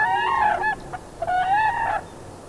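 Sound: crane unison call

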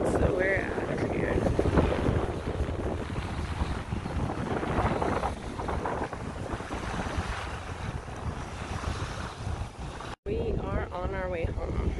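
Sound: strong wind at lake campsite

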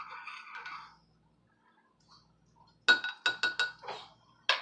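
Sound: spoon stirring coffee with creamer and sugar in a mug

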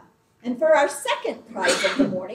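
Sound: sneeze

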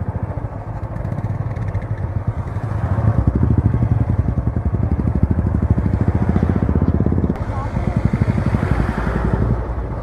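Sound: motorcycle riding on a hill road

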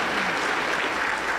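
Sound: congregation applause

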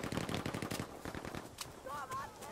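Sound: machine gun firing in the video game Battlefield V

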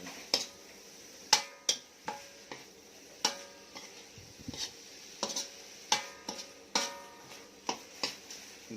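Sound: stir-frying field rat meat in a pan

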